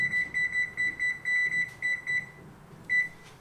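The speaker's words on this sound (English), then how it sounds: "So I'm going to turn the timer on 15 minutes." A kitchen timer set for flourless protein double chocolate chip cookies beeps in a steady run of short, bright electronic pulses, pausing briefly before one last beep, fairly close and clear with no talking.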